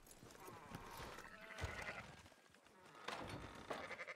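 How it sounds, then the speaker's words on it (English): Several sheep bleat in bursts in the video game Red Dead Redemption 2, fairly close, over a soft background of movement and faint voices. "Fine sheep."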